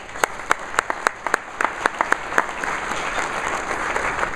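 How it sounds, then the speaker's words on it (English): An audience at an economic forecast event breaks into applause. A few sharp individual claps come first, then they swell into a steady wash of clapping from the crowd. "let's give them a round of applause as well"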